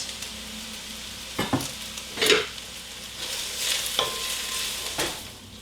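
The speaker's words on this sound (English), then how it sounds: "toss them around in the oil, and then cook them until they are nice and soft." Chopped onions sizzle in oil in a pot, a quiet steady crackle broken by several louder scraping stirs, with no speech.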